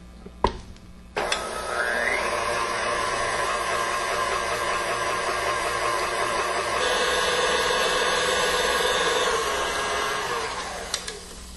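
An electric stand mixer beats chocolate orange truffle cake batter with liqueur at medium speed, a steady whirring motor drone running close and alone for about ten seconds after a few clicks at the start.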